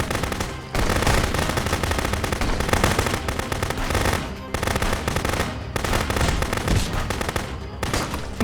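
Gunfire in the video game Contraband Police: loud, dense automatic bursts roll on almost continuously, broken by a few brief gaps.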